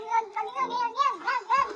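A cat gives a drawn-out, wavering meow that rises and falls in a continuous whiny yowl, close and fairly loud.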